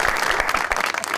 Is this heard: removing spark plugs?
no